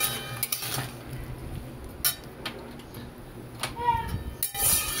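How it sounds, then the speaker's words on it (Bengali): A metal spoon stirs ground spices, a little water, potatoes and pointed gourd together in a cooking pot. Scattered light scrapes and clinks against the pot come at an uneven pace over a low, steady background hum. "এইবার আমি সব মশলাটাকে আর এই সবজিটাকে একসাথে ভালো মতন মেশাবো।"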